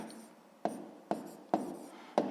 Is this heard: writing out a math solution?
yes